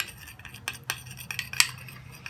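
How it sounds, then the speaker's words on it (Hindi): An egg hair mask mixture is stirred in a bowl with a utensil, giving light, irregular metallic clinks and scrapes against the dish, fairly close and with no talking. "अब हम इसे अच्छा सा मिक्स कर लेंगे।"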